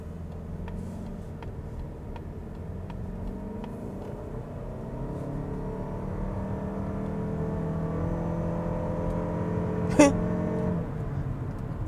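A Mazda CX-50 Hybrid accelerates in power mode, with a moderate engine hum rising steadily in pitch from inside the cabin, then a brief click near the end.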